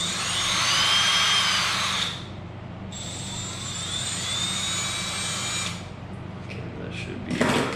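A drill fitted with a wire wheel scrubs a car's body ground connection during electrical repairs, giving two close, high whirring runs separated by a brief lull, ending in a short clatter.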